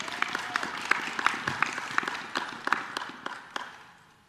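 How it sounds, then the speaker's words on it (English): An audience at a beam-signing ceremony applauds students with a brief round of scattered clapping, moderately distant, thinning out and fading toward the end. "How about another round of applause for our awesome students?"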